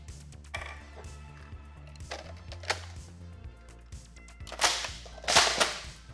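A Dart Zone Pro-Series MK-4 foam blaster fitted with a supercharged muzzle fires several sharp, snappy shots close by at irregular intervals, the last few louder and crisper, over a faint low hum.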